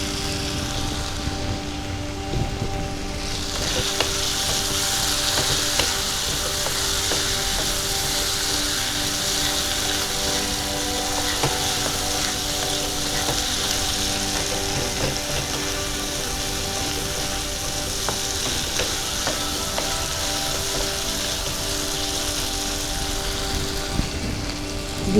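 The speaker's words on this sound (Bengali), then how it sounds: "এবার বড় করে কেটে নেওয়া পেঁয়াজগুলো দিয়ে" Chopped onions hit a pan of fried minced garlic for a colourful chicken dish, giving a steady, loud broadband sizzle that holds evenly throughout with no talk.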